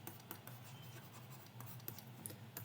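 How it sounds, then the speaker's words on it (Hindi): A word being handwritten, quiet close scratching of a pen on paper with small irregular strokes and taps running steadily throughout. "मैं लिखता हूँ एस्पिरेंट।"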